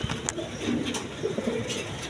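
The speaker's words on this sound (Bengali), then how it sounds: "বন্ধুগণ এখানে ইম্পোর্টের কবুতর আছে" Imported German pigeons, a pure double breed, coo in low, repeated rolling calls close by, steady over a faint background hiss with no talk.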